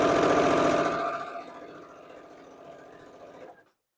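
A sewing machine stitches a seam on an improv quilt, running fast and loud up close, then slowing to a softer hum before stopping.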